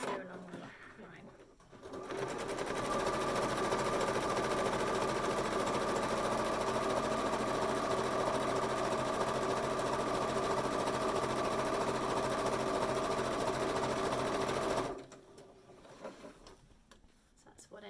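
A sewing machine stitches a quarter-inch seam along the side edges of a fabric gift bag, running in one steady, loud mechanical whir for about thirteen seconds, with quieter handling before and after.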